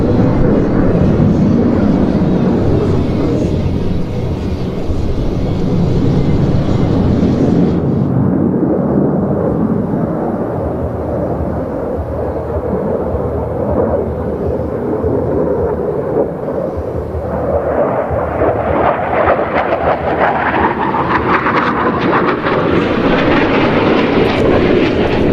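Dassault Rafale fighter jet flying at an air show, a loud sustained jet roar filling the whole clip, its pitch and intensity shifting as the aircraft passes and climbs away, with no talk.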